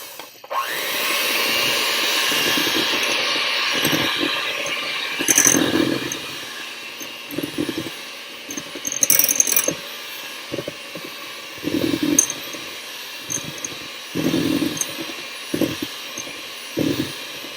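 An electric mixer whirs through gingerbread dough, a loud continuous motor drone at the start, then breaking into intermittent bursts as the beaters start and stop, with short clattering bumps between.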